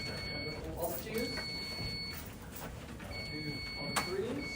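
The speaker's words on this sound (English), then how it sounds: "we're going to do a buzzer check. So can I get all the ones to buzz in?" Quiz competition buzzers sound during a buzzer check, several short electronic tones going off one after another amid faint room noise and murmured talk, moderately loud.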